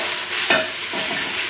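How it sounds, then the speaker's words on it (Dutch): Loud, close sizzling of food frying in a pan, a dense crackle with one brief sharper pop. "Dus lekker aan het bakken, lekker aan het knetteren."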